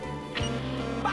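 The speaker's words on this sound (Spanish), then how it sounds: "¡Pato!" A single short nasal quack, cartoonish and close, over a steady musical background.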